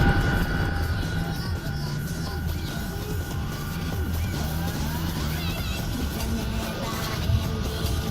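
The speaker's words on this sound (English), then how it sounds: "I gotta turn the volume down on this Chinook." Chinook helicopter noise: a dense, continuous engine and rotor drone fills the background at moderate level, with a murmur of voices mixed in.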